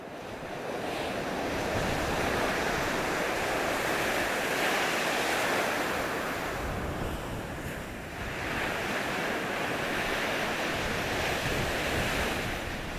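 Rough winter sea waves break on an empty sandy beach at Gangneung in a constant loud roar, with surges swelling and easing over strong wind noise and no voices.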